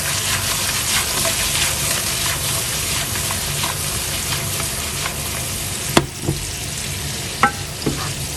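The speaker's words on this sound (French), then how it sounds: "Et on va remuer." Sautéed potatoes fry in butter in a pan with a steady, loud sizzle, while a spoon stirs them with a few sharp scraping clacks near the end. No one speaks.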